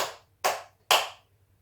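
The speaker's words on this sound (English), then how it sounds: "Coming to clap our hands." Three crisp hand claps ring out, evenly spaced and sharp, each decaying quickly into near silence in a quiet room.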